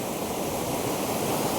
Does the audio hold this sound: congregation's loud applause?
no